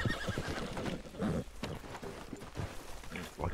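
A horse in the Red Dead Redemption video game whinnies amid dense in-game noise, with possible hoof clip-clop, the sound fairly loud and close over a busy mix.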